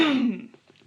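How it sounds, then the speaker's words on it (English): A single short cough or throat clear, close and fairly loud, trailing off into quiet within a second. "Sorry, I have a cough."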